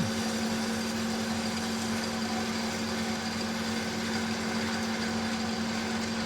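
A metal lathe parting off a workpiece at high speed with auto feed to the cross slide produces a steady, close mechanical drone with a constant tonal whine and broadband cutting noise, unbroken throughout.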